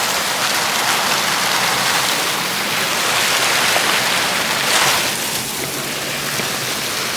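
Steady rain falls in Washington DC, a dense, even hiss of drops on hard surfaces that holds at a constant loudness for the whole stretch with no voices.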